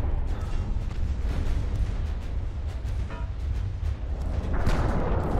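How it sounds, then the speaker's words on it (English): A cruiser's ammunition detonation in the naval warfare game Ultimate Admiral: Dreadnoughts, set at the 1942 Battle of Savo Island: a dense, continuous roar of booming blasts and rumbling fire, loud and unbroken throughout. "Got an ammo detonation on Megami."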